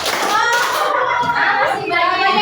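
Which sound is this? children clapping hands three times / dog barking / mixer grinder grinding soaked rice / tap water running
children clapping hands three times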